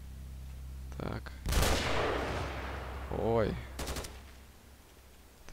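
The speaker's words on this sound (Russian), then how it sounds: "Такие выстрелы страшные побежали." Several loud, sharp gun blasts with echoing tails in the S.T.A.L.K.E.R. mod Narodnaya Solyanka, plus a brief warbling sweep in between; a man exclaims briefly amid the shots.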